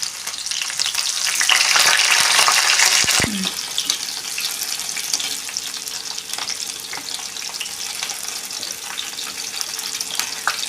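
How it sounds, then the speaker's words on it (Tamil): Mustard seeds pop and sizzle in hot oil, with shallots about to go in, making a close, steady crackling hiss with a few sharp clatters of a pan or utensil partway through. "கடுகு பொரிஞ்சு வந்துருச்சு."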